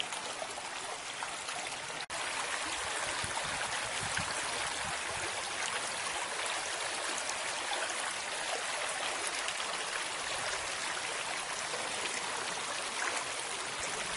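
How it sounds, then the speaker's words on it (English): Stream water flowing steadily by an old spring house in a village, a continuous broad rushing and trickling wash, close and even throughout with no talk. "That was so you could hear the water."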